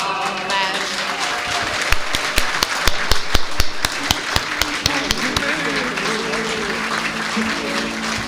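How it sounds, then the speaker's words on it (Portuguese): Guests at an 80th birthday celebration break into a lively round of applause, with loud, sharp individual claps peaking in the middle before settling into steadier clapping, while voices murmur through the crowd. "uma alva de palmas"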